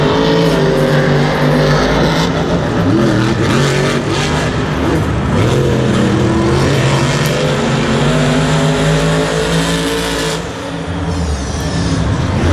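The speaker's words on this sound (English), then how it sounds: "it's going to be donut time for Kraken as Son of a Digger pulls away with an easy victory as Nick Pagliarulo spun out in the turn." Monster trucks race around a stadium track at a Monster Jam event at MetLife Stadium. Their engines roar loudly and continuously, with revs rising and falling, all heard over the wide echo of the venue.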